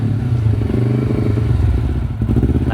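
Carbureted two-cylinder Kawasaki Ninja 250 motorcycle engine running close by, loud steady rough idle with dense rapid pulsing and a slight clatter, no voices over it.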